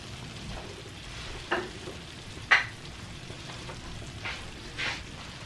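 Potatoes in cream with poblano chile cook over low heat in a pan, giving a soft steady simmering sizzle broken by a few brief stirring scrapes.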